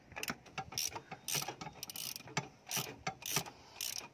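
Ratchet wrench turning counterclockwise to loosen the oil drain plug on a 2022 Nissan Navara, giving a series of close, crisp clicking bursts in an irregular rhythm.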